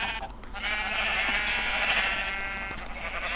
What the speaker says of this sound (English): Let's spawn a sheep.